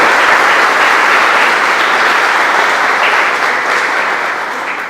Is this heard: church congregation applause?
yes